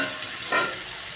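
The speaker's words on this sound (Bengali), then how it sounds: "এবার আমি বেগুনগুলোকে দিয়ে দিলাম।" Eggplant pieces drop into a pan of frying potatoes and spices, giving a short burst of sizzle over a steady frying hiss, close and fairly loud.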